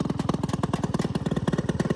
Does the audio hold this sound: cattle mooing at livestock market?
no